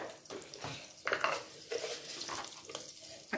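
Curry leaves crackle and sizzle in hot oil with a spoon of butter, spitting in short bursts close up, with a few clinks and stirs, no talking.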